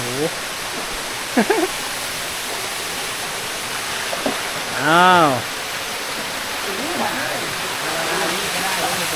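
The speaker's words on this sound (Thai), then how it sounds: "นี่ครับ ถึงแล้วน้ำตก" Chantathen Waterfall in Chonburi, Thailand, a constant broadband roar of falling water filling the scene, steady and close, with a man's brief exclamations and a passing bird-like chirp over it.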